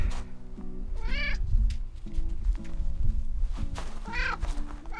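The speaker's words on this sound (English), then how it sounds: "This cat won't be quiet." A cat meows repeatedly in short, rising calls, two clear bursts near and loud, over a low steady hum in a van workshop setting on a snowy day.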